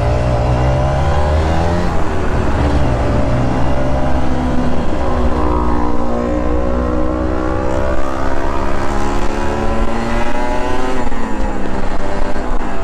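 A two-stroke Kawasaki Ninja 150RR engine fitted with an NGK B9ECS spark plug revs hard and continuously, its pitch climbing and falling in loud, buzzing sweeps close by, reaching 7,000 rpm, with no talking.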